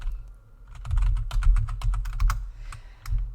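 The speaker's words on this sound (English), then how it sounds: "I'm going to type them in here" Fast, steady typing on a computer keyboard, with close, crisp key clicks in quick runs over a low background hum, a brief pause near the start and no voices.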